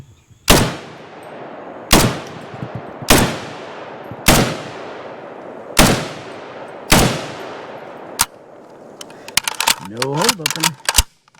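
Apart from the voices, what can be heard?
SIG SG510/PE57 rifle firing first shots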